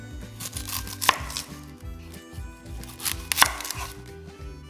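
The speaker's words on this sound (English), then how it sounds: "we're gonna chop up 2 onions and slice them thin" Knife chopping two onions into thin slices on a board, a steady run of close, crisp chops with a few sharper knocks, no talking.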